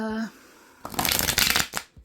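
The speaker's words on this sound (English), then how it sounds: "Let's shuffle much better to make sure that that message is for you." Tarot cards are shuffled by hand in a quick burst of papery riffling and flicking, close and fairly loud, after a brief voice at the start.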